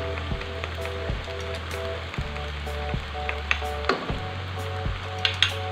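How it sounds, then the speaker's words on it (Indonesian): Sauces, including tomato, chili, oyster sauce and sweet soy sauce, sizzle in a hot frying pan for nasi gila while a spatula stirs and scrapes in a steady rhythm. Faint background music plays underneath. "Aduk-aduk lagi sampai tercampur rata"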